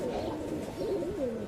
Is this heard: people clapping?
no